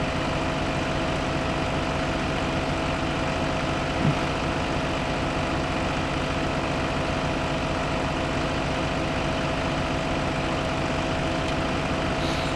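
A tractor engine idles in Farming Simulator 15, a steady, continuous low drone with an even tone that holds unchanged throughout, no voices.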